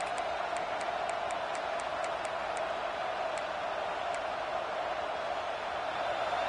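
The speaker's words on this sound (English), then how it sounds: "This crowd, full throat, splitting the eardrums" A football stadium crowd at a Mizzou versus Penn State game, a dense, steady roar that holds at an even level throughout, with a few faint sharp clicks above it.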